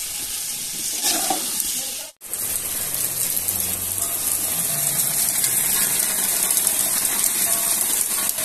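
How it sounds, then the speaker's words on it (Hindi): Heavy rain pouring down outside a home: a dense, steady hiss of falling water that runs continuously after a brief break, close and fairly loud. "फुल तेज बारिश हो रही है अभी,"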